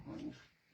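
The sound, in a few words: dogs play fighting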